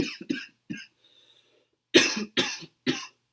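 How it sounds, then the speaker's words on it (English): Several short, sharp coughs close by, a quick cluster at first, then a pause and three louder, spaced coughs. "I don't know why I'm coughing"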